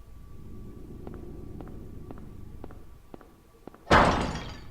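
A heavy thud like smashing porcelain in a quiet, grimy bathroom in the Silent Hill video game, a single loud crash with a sharp attack and a fading tail, preceded by soft sparse ticks over low ambient hum.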